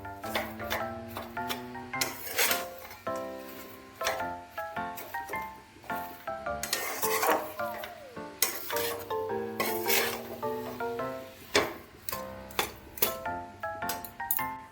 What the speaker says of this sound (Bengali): ভালো করে নেড়ে নেড়ে এটাকে বেশ কিছুক্ষণ জাল দিয়ে নেব নারকেলের সাথে